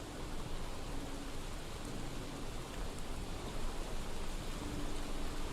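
Steady rainfall in the video game Skyrim, a continuous broadband hiss of rain without pauses, even and moderately loud, no voices.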